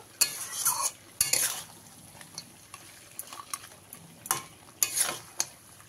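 Bhetki fish bone curry is stirred in a pan, with repeated sharp scrapes and clinks of a utensil against metal over a faint, low sizzle, in irregular bursts.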